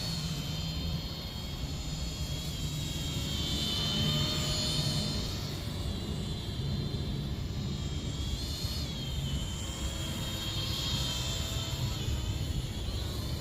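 An EO-29 Eagle Owl drone flying at night and landing on its own, giving a steady, faint whirring drone that holds level throughout with slight swells and no talk.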